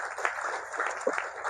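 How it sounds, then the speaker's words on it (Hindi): An audience at a spiritual talk applauds itself, a dense, steady patter of many hands clapping together indoors for a second or two, with faint voices mixed in. "चलो अपने लिए ताली बजाओ पहले तो"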